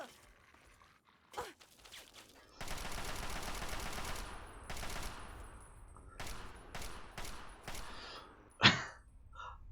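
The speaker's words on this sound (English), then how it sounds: "Who's shooting?" Gunfire in Fallout 3 combat: a stretch of sustained automatic fire followed by several separate sharp shots and a final loud crack, fairly quiet overall with gaps of near silence between.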